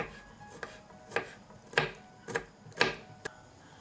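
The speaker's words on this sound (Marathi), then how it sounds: "हिरव्या मिरच्या कट करून घेऊ" Knife chopping green chillies on a board for a children's leafy vegetable soup: about six separate crisp cuts, each sharp and close, spaced unevenly against a quiet room.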